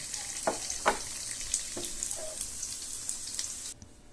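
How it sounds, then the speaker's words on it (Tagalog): Tofu sautéing in a pan gives a soft, steady sizzle with several sharp utensil clinks and scrapes, then cuts off abruptly near the end. "Tapos magigisa muna tayo."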